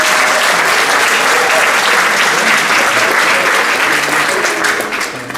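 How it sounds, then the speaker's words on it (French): A church audience at an evangelism weekend claps and cheers loudly and continuously for the youth team, a dense sustained wash of applause that thins slightly at the very end. "Est-ce qu'on peut acclamer la jeunesse de cette équipe?"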